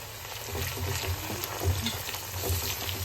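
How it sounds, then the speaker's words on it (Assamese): Cardamom pods and bay leaves fry in hot oil in a pan, a steady close sizzle with soft stirring scrapes and no talking. "এতিয়া মই দিম ইয়াতে ইলাইচি আৰু তেজপাত।"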